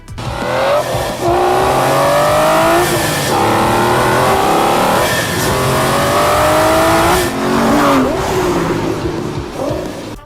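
A 2012 Aston Martin Vanquish V12 in Need for Speed Hot Pursuit 2 revs hard through repeated gear changes, loud and close, with rising engine pitch sweeps and brief tire squeal, no talking.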